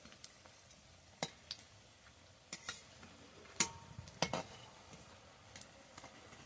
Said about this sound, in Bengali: তো দেখুন এইভাবে উল্টে পাল্টে আমি ভেজে নেব।